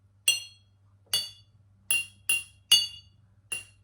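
A drinking glass partly filled with water is struck six times at uneven intervals, each giving a bright, close ringing ping that decays quickly, with a faint low hum underneath.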